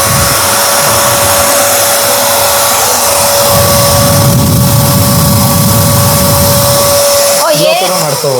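A low-budget vacuum cleaner runs steadily in blower mode, a loud, close, continuous whine with a broad roar of rushing air that shifts slightly near the end, while a person talks over it.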